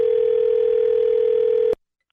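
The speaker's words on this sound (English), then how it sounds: "You don't hang no damn phone up on me." A steady, loud telephone dial tone hums continuously after a call is hung up, then cuts off abruptly with a click, leaving silence.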